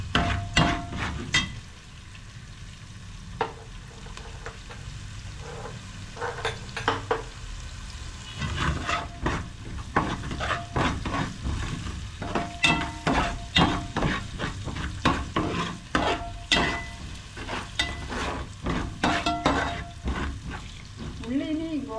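Curry leaves sizzle in hot oil in a pan while being stirred for tomato rice, a steady frying hiss broken by repeated sharp scraping and clinking strokes of the spoon against the pan.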